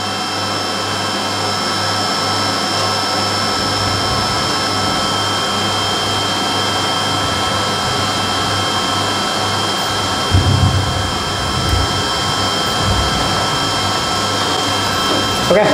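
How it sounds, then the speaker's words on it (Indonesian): A UV roll-to-roll printer runs a print job with a steady, loud mechanical drone and whir that holds without pause. A brief louder bump comes near the end. "Oke, mesin melakukan pengoperasian dengan baik, normal, lancar, tanpa kendala."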